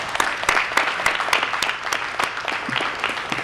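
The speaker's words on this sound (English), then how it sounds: "let's all of you give them a round of applause for coming out" Audience applause at a congressional press conference, a short burst of sharp, distinct claps from a modest crowd, fairly close and without speech.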